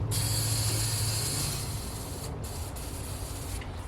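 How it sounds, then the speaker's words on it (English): An aerosol spray can held upside down hisses in a steady close burst to clear its nozzle while finishing a wooden American flag, the hiss fading and then stopping and restarting in short sputters. "hold it upside down and spray it until everything clears out of it, and then that way the nozzle won't get plugged up"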